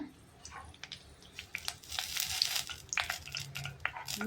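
Mustard seeds and curry leaves hit hot oil for khar vangi, giving a soft, crackling sizzle with scattered sharp pops and spits, fairly quiet and close.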